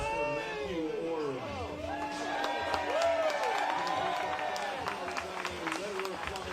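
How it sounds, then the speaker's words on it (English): A crowd at the MVP Open disc golf tournament applauds and cheers for a player, with steady clapping and whoops over open-air babble. "let's get a round of applause for Matthew Orr"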